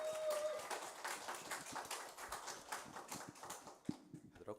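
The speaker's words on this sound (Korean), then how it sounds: "박수 한번 크게 주세요." An audience applauding in a church during Sunday worship, a quiet patter of many hands clapping, irregular and somewhat distant, with a brief tone at the start.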